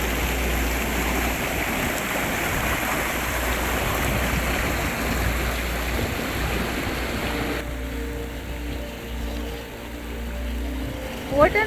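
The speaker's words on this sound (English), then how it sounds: "I think it's glacier water and it's joining the lake" Glacier meltwater stream pouring into a lake in remote Tajikistan, a broad steady rush of water heard close, with the roar easing to a quieter trickle partway through.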